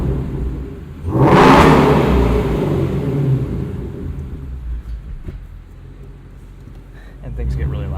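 A 2016 Ford Mustang Shelby GT350 engine in sport exhaust mode revs hard once, rising to a loud broadband roar that slowly settles into a rumbling idle, with a second swell near the end.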